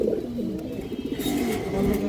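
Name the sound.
pigeon cooing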